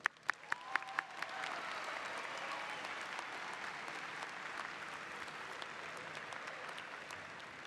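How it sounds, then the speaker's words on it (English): Audience at a graduation ceremony applauding graduates' families and friends, a few sharp claps at first, then building into sustained, even applause from a large crowd heard at a moderate distance. "Let's applaud them as well"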